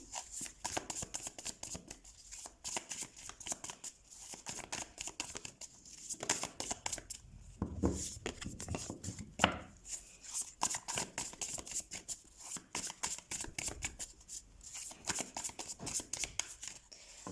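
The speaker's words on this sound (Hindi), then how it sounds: "तो सबसे पहले हम कार्ड शफल कर लेते हैं कैप्रिकॉर्न" Tarot cards being shuffled by hand, a long run of faint, close riffling and papery flicks coming in quick bursts with brief pauses, no talking.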